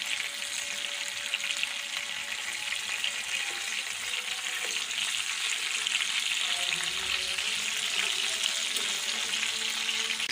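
Chicken pieces frying in oil on a high flame: a continuous loud sizzle and crackle, close up, with occasional stirring or shifting noises and no talking.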